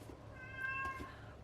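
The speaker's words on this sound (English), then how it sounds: "I am so sorry if you can hear my cat screaming in the background." A single drawn-out cat meow rises and then falls, faint and somewhat distant against a quiet room background.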